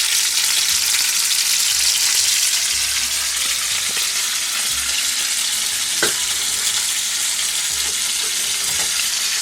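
Steady, loud sizzling of beef rolls browning in a hot frying pan fills the whole stretch, with a few faint clicks of utensils.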